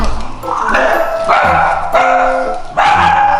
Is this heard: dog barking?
yes